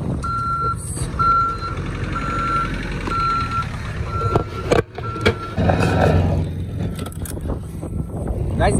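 A vehicle reversing on a busy street, its repeated evenly spaced electronic warning beeps sounding over a running engine and general traffic rumble, close and loud, with a sharp knock partway through.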